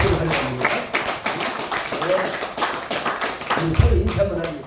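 A church congregation at a Korean Sunday worship service breaks into a burst of applause, many hands clapping steadily for several seconds in a reverberant hall, mixed with some murmuring voices.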